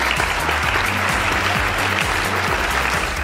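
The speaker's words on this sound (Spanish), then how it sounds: "Un aplauso." A live audience gives a brief round of applause at a theatre show, dense clapping filling the space steadily for a few seconds, with a low steady hum beneath it.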